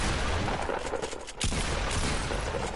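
Fortnite gunfire crackles in rapid, loud bursts, a sharp crack standing out near the middle, with the shots packed close together and sustained throughout.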